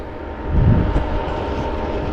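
A small tractor engine runs in a field during harvest threshing, a low, steady mechanical rumble that swells briefly and then settles, heard at moderate distance with no talk.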